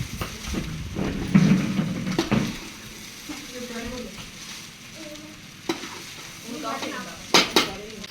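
Egg rice being stirred and fried in a pan, with a soft continuous sizzle and repeated scraping, clinking strokes of a metal spoon against the pan.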